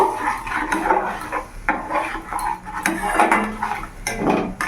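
Turmeric, salt and Kashmiri chilli powder mixed in a cooking pan, with repeated close scraping and clattering of a spoon against the pan in uneven strokes.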